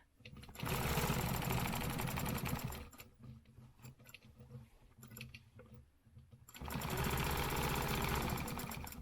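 A sewing machine stitches around a stencil outline from point to point, with two long, loud bursts of rapid, steady needle clatter close by and a quieter, sputtering stretch of slower stitching between them.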